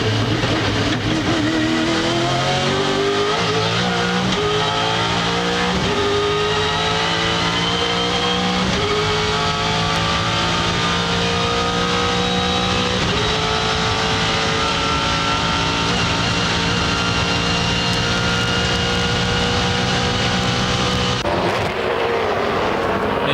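Onboard engine of the Castrol Ford Falcon touring car racing at Bathurst in 1997, a loud, steady V8 roar with rising pitch through repeated gear changes, close and continuous before a brief drop near the end.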